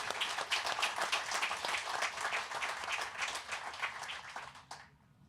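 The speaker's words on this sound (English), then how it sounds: "Let's give ourselves a round of applause." A crowd at a groundbreaking ceremony claps continuously in dense, lively applause that holds steady before fading out at the end.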